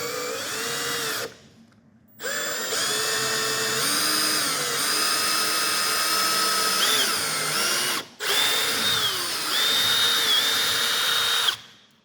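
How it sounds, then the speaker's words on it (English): A Milwaukee M18 cordless drill with a 1/8 inch twist bit whines steadily at high speed, boring through material, with two brief pauses where the motor stops before spinning up again. "we're going to drill through there from the front to the back with an 1/8 inch drill bit"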